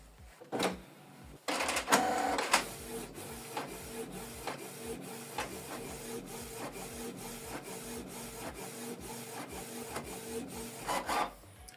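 A Canon Pixma TS3752i inkjet printer runs through a page: a sharp start-up clack, then steady rhythmic whirring and shuttling of the print head, ending with a final mechanical clunk.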